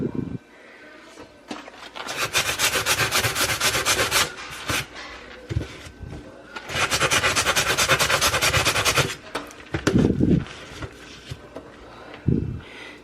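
Towel wiping and scrubbing across a kitchen stove, two long bursts of loud, close rasping rub with a brief pause between, then a few short thumps and wipes toward the end.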